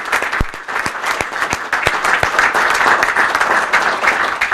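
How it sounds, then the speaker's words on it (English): An audience at an event announcing the Great Lakes Off Shore Grand Prix bursts into loud, sustained applause, a dense wash of clapping with sharper individual claps standing out throughout. "So a round of applause for these producers."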